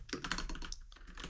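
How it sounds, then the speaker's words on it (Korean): Typing in Korean on a computer keyboard: a steady run of rapid, close key clicks and taps with a constant low hum behind them. "한글로 타자 치는 거"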